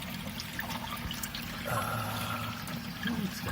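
Water gurgling and pouring through aquarium overflow drain plumbing, a steady trickling flow with a brief louder rush midway, close and moderately loud, partly overlapped by background noise.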